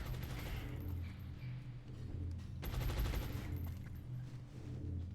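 Suppressive gunfire in the XCOM Long War strategy game, a sustained burst of rapid automatic shots with booming low rumble over continuous battle ambience, steady and fairly loud throughout.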